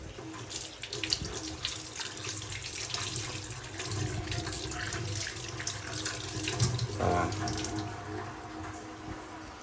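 Steady rushing stream from a running water tap into a sink while something is washed under it, constant and fairly near with a brief splashy change toward the end; no talking.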